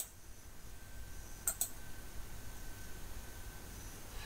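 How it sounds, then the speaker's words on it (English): A single quick mouse click on a software button, a sharp double-tick close to the mic over a steady soft hiss, with no talking. "Click this button here"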